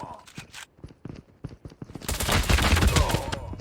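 Gunfire in the Call of Duty Mobile video game: quiet footsteps and scattered sounds give way to a sudden, loud, sustained barrage of rapid shots that fills the second half.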